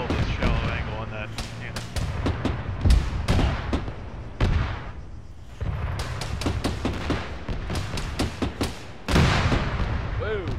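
Repeated heavy cannon shots from a BMP armored vehicle boom in quick bursts amid video game combat noise, with voices talking over the gunfire.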